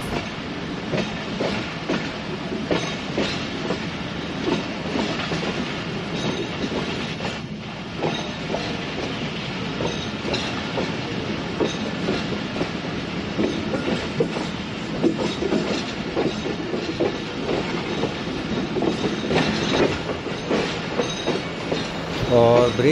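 The Awam Express, a Pakistan Railways train, rolls into the Jhelum station yard with a continuous loud rumble, rhythmic clickety-clack of the wheels over rail joints and occasional squeals of wheel on rail.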